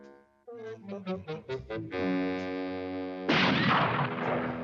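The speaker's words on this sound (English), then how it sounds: "Good shot, Mr. Bannon." A cartoon gunshot in a Jonny Quest episode comes as a sudden loud burst of noise that rings on, following a run of stepped musical tones and a sustained chord.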